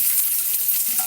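Onion for yakiniku beef frying in a pan, a steady, loud hiss of sizzling oil that holds evenly throughout with no talking.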